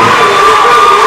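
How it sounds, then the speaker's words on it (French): Audience at a school debate contest cheering and applauding loudly in a steady, dense burst of shouts and whoops that fills the whole moment. "est-ce qu'on peut applaudir cette introduction?"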